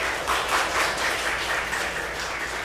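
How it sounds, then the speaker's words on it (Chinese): A congregation claps together during a Taiwanese-language Presbyterian church worship service, a dense, steady wash of many hands sustained throughout with no voices. "好，来，我们拍手"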